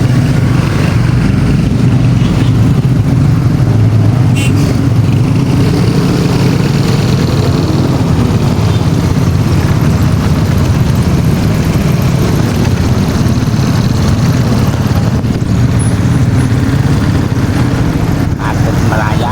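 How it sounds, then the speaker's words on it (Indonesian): Slow-moving traffic jam in an Indonesian city centre, a continuous loud drone of idling and creeping engines close by, with someone talking over it. "Macet merayap situasi perjalanan saya menuju pasar."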